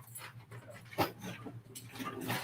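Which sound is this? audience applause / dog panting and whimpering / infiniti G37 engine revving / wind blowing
dog panting and whimpering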